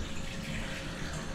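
Water runs steadily from a hotel bathroom tap, a continuous broadband hiss and splash at close range with no voices.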